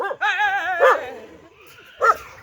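A dog gives a few short, whining yelps and barks at close range, with a longer strained cry at the start followed by two brief bursts and quiet gaps between them.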